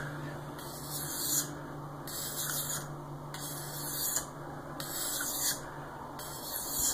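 A ZDP-189 steel knife blade is drawn across a King whetstone in steady, repeated strokes, each producing a soft rasping hiss that rises and falls about once per second, close and fairly quiet with no talking.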